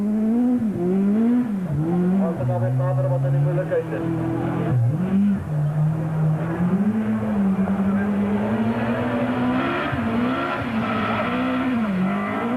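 A rally car runs the final 1.4-kilometre stage through a showgrounds, its engine revving up and down continuously with tyre squeal and skidding, close and loud, with a commentator's voice heard over it throughout.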